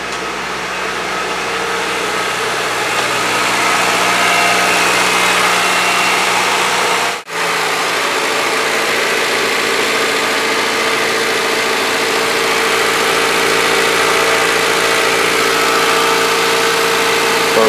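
A Honda Civic engine idles high with the throttle held at about 2000 rpm, a loud, steady, even hum with a momentary dip midway.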